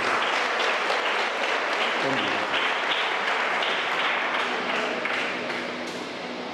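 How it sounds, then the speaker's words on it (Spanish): Loud, dense applause from a large crowd, sustained throughout and easing off slightly toward the end. "Un aplauso para Dios"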